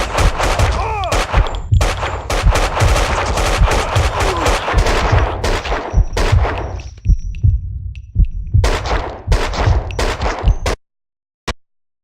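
Max Payne 2 video game gunfire: dense bursts of rapid loud shots and clattering impacts for about ten seconds, a brief lull, then more shooting before cutting to near silence with one last click.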